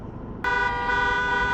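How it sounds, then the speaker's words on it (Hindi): Car horns blaring at a busy Turkey–Bulgaria border crossing jammed with vehicles, starting with a low traffic rumble before a loud sustained horn blast cuts in and holds steady. "सारों ने हॉर्न बजाने शुरू कर दिए हैं कि भाई जल्दी करो"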